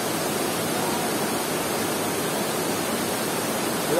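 Batya Batya Falls on Mt. Romelo gives a steady, close, broadband rush of falling water that holds constant for about four seconds, with no voices and only a slight swell at the very end.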